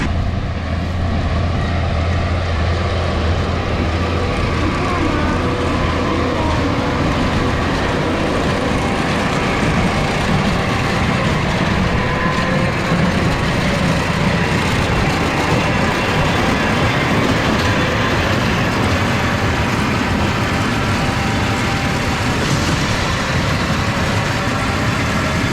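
A round baler working a hay field, heard as a steady, loud mechanical drone with a constant clattering rumble that runs unbroken throughout, with no voices.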